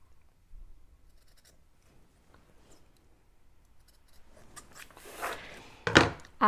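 Scissors trimming decoupage paper: faint quiet snipping and rustling at first, then a few crisper, louder cuts close by near the end, with no talk.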